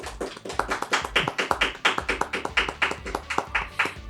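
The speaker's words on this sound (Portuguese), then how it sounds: "Uma salva de palmas" Audience claps for a guest at the end of an education talk in Portuguese: a few seconds of steady, rhythmic hand claps, fairly close and even, with no voices over them.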